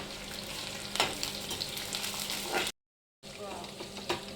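Green chillies and curry leaves crackle and sizzle in hot oil for a puffed-rice chivda snack, a dense close frying hiss with brief pops, cut by a short silent gap before resuming.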